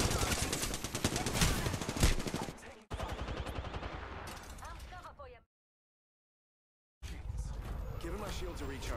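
Rapid automatic gunfire from Apex Legends, dense loud bursts for several seconds, a brief cut to silence, then the firing resumes.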